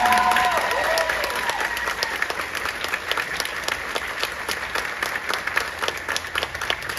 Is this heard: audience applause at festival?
yes